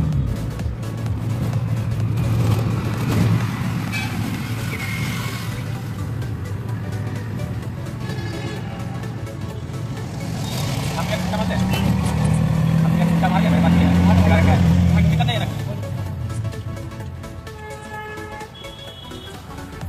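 An auto-rickshaw booked through an app rides through a jammed metro city street, its engine droning steadily with traffic noise around it, swelling louder partway through while a person talks over the ride.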